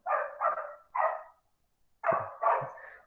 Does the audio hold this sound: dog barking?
yes